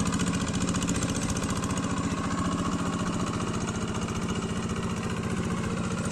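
A plough tractor engine idles steadily and loudly nearby, a fast, even chugging pulse running without a break and with no one speaking.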